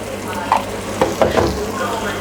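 Achari bhindi gosht, okra and mutton masala with chopped green chillies and garam masala, is stirred in a frying pan. A soft steady sizzle runs under a few sharp spoon scrapes against the pan, close up with no talk.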